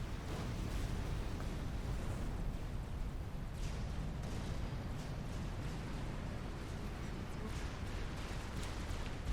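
Crab unit blowing up in a real-time strategy game, a dense rumbling burst of game explosions and battle noise running steadily throughout at moderate loudness.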